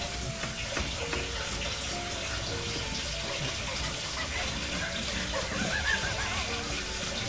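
Water runs steadily from a tap in a home kitchen during breakfast cooking, a continuous rushing hiss at moderate level with faint clatter and background sounds throughout.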